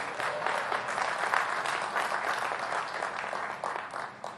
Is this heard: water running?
no